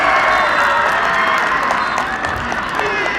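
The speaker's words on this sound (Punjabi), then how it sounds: "ਤਾੜੀਆਂ ਮਾਰਦੇ ਹੋ ਜ਼ੋਰਦਾਰ ਮੇਰੇ ਮਿੱਤਰੋ ਕਾਮੇ ਦੀ ਟੀਮ ਨੇ ਗੋਲ ਕਰਤਾ" A crowd at a village football tournament in Mahalon applauds and cheers after a goal, a steady dense wash of clapping and shouting that holds for the whole stretch.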